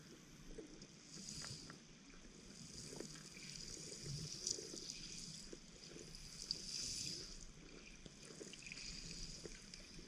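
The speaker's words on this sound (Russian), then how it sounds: "лучше пусть будет слышно звук воды" Soft underwater water sound in Lake Kinneret, a steady low wash with faint trickling and bubbling texture throughout, no voices.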